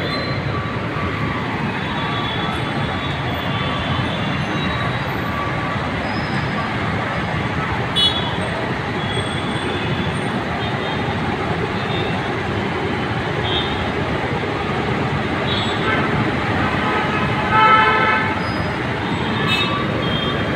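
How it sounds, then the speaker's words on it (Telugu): Heavy road traffic in Hyderabad makes a dense, steady roar of engines and tyres throughout, with no distinct horn blasts standing out from the continuous wash of noise. "ఇది హైదరాబాద్ ట్రాఫిక్ పరిస్థితి."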